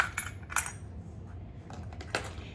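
Coins clinking and dropping out of a small treasure box, a few separate metallic jingles spread over a couple of seconds, fairly quiet, with no talking.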